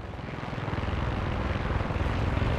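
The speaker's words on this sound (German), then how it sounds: "Da patrouilliert ein feindlicher Hubschrauber in der Nähe." Enemy helicopter patrolling nearby in the video game Far Cry 6, heard as a loud, steady rotor rumble with rapid rhythmic thumping throughout, with no speech.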